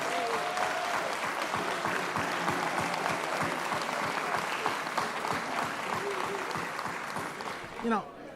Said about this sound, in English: So everybody clap for him,